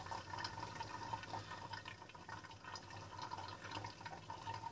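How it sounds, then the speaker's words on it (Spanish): A homemade non-electric aquarium aerator pushes water and air through a hose, giving a soft, continuous bubbling and trickling with scattered drips, fairly quiet and close, with no talk. "por esta manguera va a salir el burbujeo."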